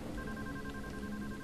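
A phone rings with a steady electronic tone in the video game Deadly Premonition, holding evenly through the brief moment over a dense, muffled background.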